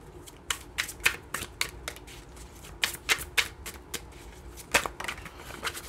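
Oracle cards are shuffled by hand close up, with quick papery riffles and soft slaps repeating in irregular bursts over a quiet background.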